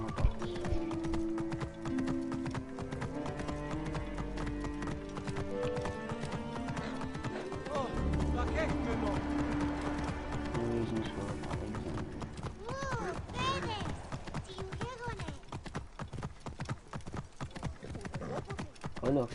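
Horse hooves clip-clop in the ancient-Egypt setting of the video game Assassin's Creed Origins, a steady rhythmic trot mixed under game music and voices, with a horse whinny near the end.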